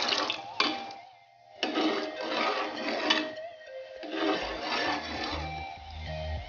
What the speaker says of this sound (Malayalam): ഇതിലേക്ക് നമുക്ക് 1 കപ്പ് 3-ാം പാൽ ഒഴിച്ചു കൊടുക്കാം